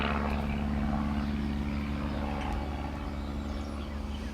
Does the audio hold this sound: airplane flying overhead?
yes